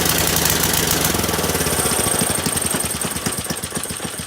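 Small snow blower engine fitted to a homemade drift trike cranking and catching, a loud rough churn that settles into a rapid, even putter.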